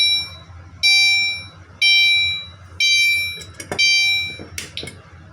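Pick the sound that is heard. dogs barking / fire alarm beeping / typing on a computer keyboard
fire alarm beeping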